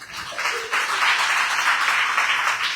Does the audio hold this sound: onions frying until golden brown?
no